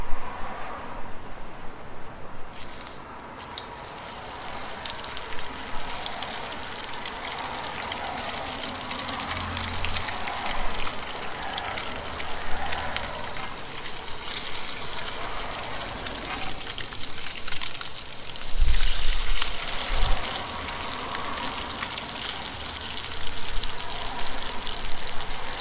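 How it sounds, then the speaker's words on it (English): Croaker fillets frying in hot oil: a loud, steady hiss and crackle of sizzling that swells briefly partway through, heard close with no talking. "we got our oil nice and hot. Let's start putting our fillets in there."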